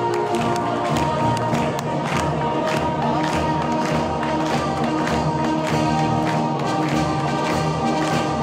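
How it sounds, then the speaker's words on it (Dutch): A hall crowd at a Dutch carnival-style comedy talk gives sustained applause with cheering as the village-politician character Twan van der Ven is introduced, a dense continuous wash of clapping filling the whole stretch. "Geef hem een applaus, Twan van der Ven."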